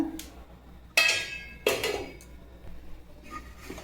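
Two metallic clanks of a lid being set onto an idli steamer pot, close by, followed by quiet rustling.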